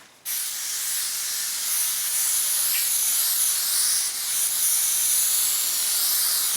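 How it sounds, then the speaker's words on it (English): An aerosol can sprays in one long, steady hiss nearby onto a cut cloth, starting suddenly and continuing for several seconds. "Then spray your cloth that I cut."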